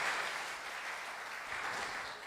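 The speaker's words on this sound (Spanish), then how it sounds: "give the Lord a loud clap offering" A church congregation clapping as an offering to the Lord, a faint, steady wash of applause from a room of people, no talk.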